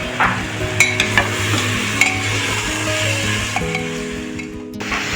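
Capsicum, spinach and tomato sautéing in a pan after paneer has been fried, a steady sizzle under a low background hum, broken by a few sharp clinks and scrapes of a spoon against the pan.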